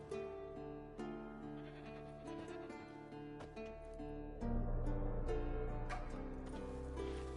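A goat bleats repeatedly in The Witcher 3 game, the calls mixed with a steady bed of background music and ambience.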